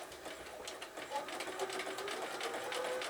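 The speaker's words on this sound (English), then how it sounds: "so that I can start with 4 or 5 very tiny stitches" Sewing machine running steadily at close range, stitching very short straight stitches on red fabric for a zigzag appliqué bunting, with a fast, even needle rhythm throughout and no talk over it.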